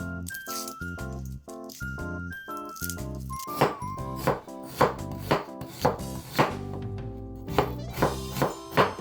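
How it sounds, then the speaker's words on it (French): Knife slicing a peeled onion into thin strips on a board, a run of regular crisp chopping taps in the second half, each cut distinct, over a bed of background music. "On s'attaque à l'oignon qu'on épluche, et après on le taille en fines lamelles."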